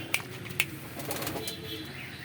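Giribaz pigeons at a home loft give soft low coos alongside two sharp wing-flap bursts early on, close and moderately quiet over a steady murmur.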